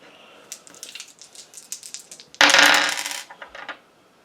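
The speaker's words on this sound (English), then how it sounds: "let's do the dice on that." Dice clattering and rolling on a table during a tarot reading, a sharp loud burst of rattling that tumbles for about a second and trails into scattered small clicks, with softer taps and handling noises beforehand.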